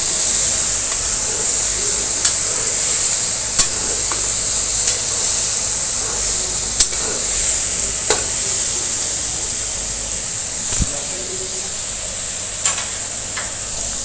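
Tomatoes frying in a pan for chicken curry, giving a steady close sizzle and hiss with occasional soft scrapes and taps as the spoon stirs them, with no talk.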